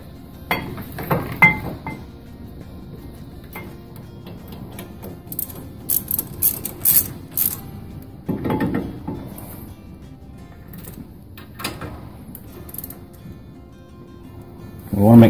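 A ratchet clicks in short bursts while brake assembly bolts are tightened during a brake pad and rotor job, mixed with scattered metallic clinks of tools and parts.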